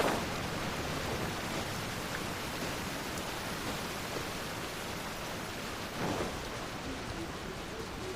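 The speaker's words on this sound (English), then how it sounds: "The rain stopped." Steady, dense rain falls in a video game, a continuous even hiss with no voices and a faint low rumble swelling briefly partway through.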